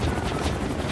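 A helicopter in the video game Max Payne 3 gives a loud, continuous rotor drone with a steady chopping texture and nothing else heard over it.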